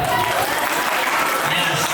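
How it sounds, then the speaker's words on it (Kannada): Loud, sustained applause from an audience at a traditional wedding, steady clapping filling the whole stretch with crowd noise. "ಅವ್ರಿಗೆಲ್ಲರಿಗೂ ಒಂದು ಜೋರ ಚಪ್ಪಾಳೆ ಕೊಡಿ"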